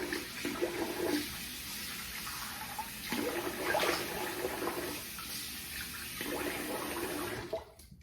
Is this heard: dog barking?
no